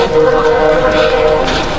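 A train rolls past a 5K race course near a hill, a loud continuous rumble with a droning horn-like tone throughout, with crowd noise mixed in.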